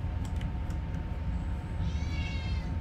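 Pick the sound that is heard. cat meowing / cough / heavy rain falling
cat meowing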